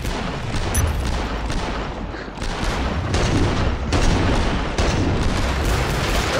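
Dense bursts of rapid gunfire and booms from the game Killing Floor 2 fill the clip, steady and loud throughout with no pauses, like a firefight.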